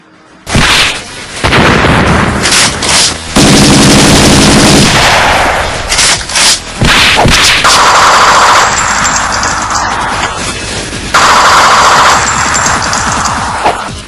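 Bursts of loud gunfire, rapid machine-gun volleys and sharp blasts, break out in several long stretches with short gaps between them, close and harsh throughout.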